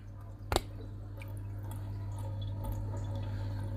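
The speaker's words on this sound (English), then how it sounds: "the flow on the top where the water is coming out, it's not as intense" Water splashing and trickling from the return outlet of a Red Sea Reefer 350 reef aquarium, a sharp splash at the start followed by a steady quiet gurgle over a constant low pump hum.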